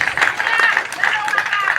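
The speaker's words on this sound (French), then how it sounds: "veuillez applaudir la mutuelle" Audience applauding a mutual-aid association at a gathering, a steady patter of many hands clapping at moderate volume with some crowd noise mixed in.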